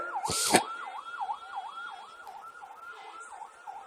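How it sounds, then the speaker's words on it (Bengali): A wailing ambulance siren rises and falls in a fast repeating cycle, moderately distant, after a brief clatter at the start. "ডানে কি অ্যাম্বুলেন্স যাচ্ছে"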